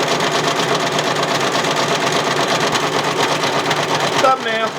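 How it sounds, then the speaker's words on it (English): A Brother Persona embroidery machine runs a satin stitch on hook and loop fabric on a flat-brim dad hat in a hat hoop, a steady rapid mechanical chatter throughout, close and loud, with a brief voice near the end. "It's going to do that satin stitch for a little while."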